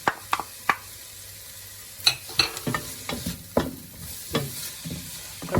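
Potatoes frying for relyenong bangus being stirred in a pan, irregular scraping knocks over a faint sizzle, close and moderately loud, no speech.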